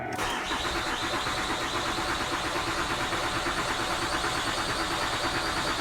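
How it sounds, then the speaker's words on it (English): Starter cranking of a 2006-2009 Ford Fusion 3.0 V6 in clear flood mode, pedal floored, whirs steadily and loudly without catching, close up and continuous. "we'll take the pedal and just push it all the way to the floor, and then we'll crank it and it should not start"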